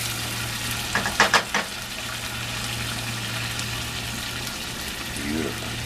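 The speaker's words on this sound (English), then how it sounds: "I'm going to stir this up a little bit, turn it down." Mushroom risotto simmering in a pan, with a steady soft sizzle over a low hum and a few brief scraping stirs near the start, and no talking.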